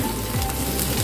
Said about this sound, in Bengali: দেখুন পেঁয়াজ আর ক্যাপসিকামও মোটামুটি হালকা করে ভাজা হয়ে গেছে